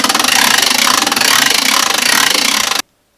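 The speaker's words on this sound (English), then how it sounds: "Handle, you wind the generator." A hand-cranked generator is wound by its handle, giving a loud, steady whirring drone with a fast rhythmic rattle from the gearing, running close up for nearly three seconds before stopping abruptly into silence.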